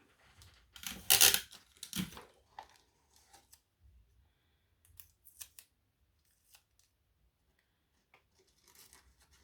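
A small piece of sticky tape torn from a roll while assembling a paper fan card, a sharp tearing burst followed by a brief second rip, then faint handling rustles in a quiet room.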